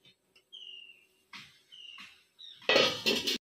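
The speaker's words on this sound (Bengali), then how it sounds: "15 মিনিট পরে ঢাকা খুলে দেখে নিচ্ছি।" A lid comes off a pot of egg momos after fifteen minutes of steaming. Faint thin whistling tones come first, then a short metallic clatter near the end.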